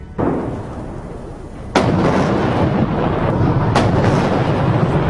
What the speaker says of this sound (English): A 70-gun salute in Tiananmen Square to mark the end of the war with Japan